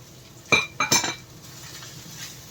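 Liver pieces for pancit bihon stirred in a pot with a metal utensil, three sharp clinking scrapes in quick succession, then a quiet low background.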